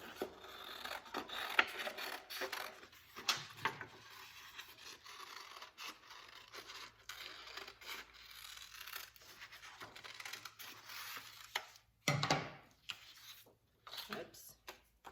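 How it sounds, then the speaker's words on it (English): Scissors cutting paper wings out of a craft page for a spring windsock give scattered close rasping snips and rustles, irregular and fairly faint, with a voice talking intermittently. "then you'll take your page of wings and you'll cut out both wings"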